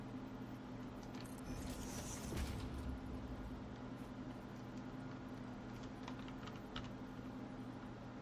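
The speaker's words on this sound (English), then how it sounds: "Hearing the keyboard doesn't surprise me." Faint, quiet clicking of someone typing on a computer keyboard during a gaming stream, soft irregular taps over a low background hum.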